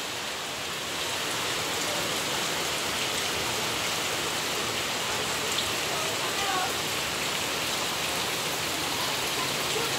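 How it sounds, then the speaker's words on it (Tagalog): Heavy storm rain pours in a loud, dense, unbroken roar, drumming steadily on surfaces for the whole stretch with no clear talking. "Malakas ang ulan. May bagyo yata, oh."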